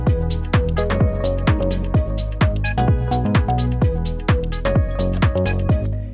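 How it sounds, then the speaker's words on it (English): A 90s UK garage remix of a song made in FL Studio plays loud and full, with punchy drums, a deep rolling bassline and chopped chord stabs pulsing in a steady, bouncy rhythm. "if we listen to everything with the drums, the bassline and these melodic elements"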